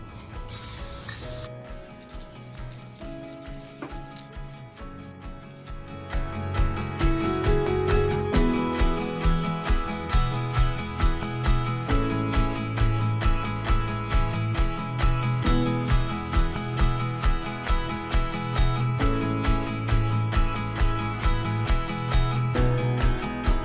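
Aerosol spray paint hisses in long, steady bursts, the can's rattle and nozzle puffs repeating rhythmically close by after a quieter start.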